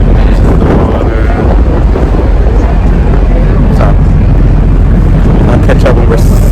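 A tender boat carries passengers across open water toward an island, wind buffeting the microphone in a loud, constant roar over the hum of the hull and splashing water.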